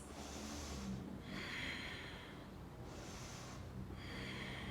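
Slow, deep breaths during a seated yoga twist, a long inhale and exhale repeated twice, close and airy with a faint snorting edge and no speech.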